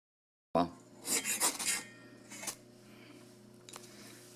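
A knife scraping New York State fatwood for a scrape and light test, close raspy scrapes in quick bursts, followed by a sharp tap and quieter rubbing.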